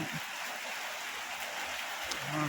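Rain falls steadily outdoors in Thailand, a broad, even hiss of drops on surfaces that stays constant throughout, with a faint voice briefly underneath near the end.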